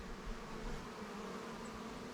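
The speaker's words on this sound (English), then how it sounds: "We got bees coming back in from the field right now" A steady, low hum of many honeybees buzzing around a hive, continuous and fairly quiet, with no voices.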